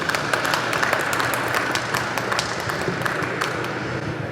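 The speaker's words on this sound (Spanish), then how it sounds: "Un aplauso para el ingeniero Rolando." Audience applause for a speaker introduced at a panel discussion, a dense sustained roll of clapping from a room full of people, steady and fairly loud throughout.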